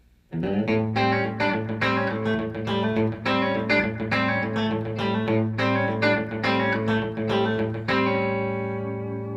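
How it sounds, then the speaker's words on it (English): Chicken pickin' rhythm on electric guitar, triple picking that double-hits the open A bass note, plays as a bright, steady run of rapid plucked notes with a ringing tail at the end, no voices. "Now what I'm doing here I call triple picking."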